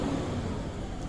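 A car on an open road in Corsica rolls past with a steady, moderate engine and tyre roar that stays fairly even throughout.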